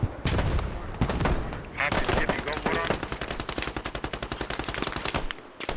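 A long burst of rapid automatic gunfire empties a whole magazine in a war video game, with steady, evenly spaced shots under some overlapping louder bangs and distant battle noise.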